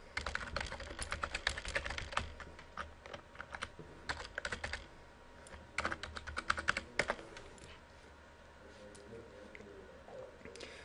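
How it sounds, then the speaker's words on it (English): Login details typed on a computer keyboard: quiet clusters of rapid key clicks in uneven bursts with brief pauses, close and soft, with no talking. "So I'm going to type in my login information."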